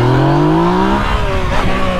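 A Yamaha MT motorcycle revs hard and accelerates close by in busy traffic, its loud engine note climbing steadily over about two seconds.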